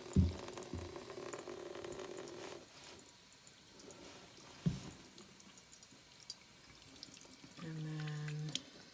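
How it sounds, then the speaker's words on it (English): Water stream draining steadily from a priming Berkey water filter, a continuous trickling flow with a few brief knocks, heard close and alone. "But you start with, getting a stream of water."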